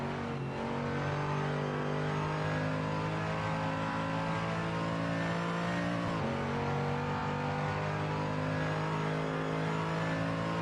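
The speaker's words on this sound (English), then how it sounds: "I'm gonna have a quick drive in the safety car, see if we can get out and do a lap" Safety car engine running steadily through a lap at the Tor Poznań racing circuit, a loud continuous drone close by with a brief dip and shift in pitch partway through, no talking.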